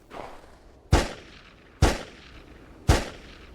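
Pistol gunfire in a video game: three sharp, loud single shots spaced about a second apart, each with a short decaying tail, following a fainter sound at the start.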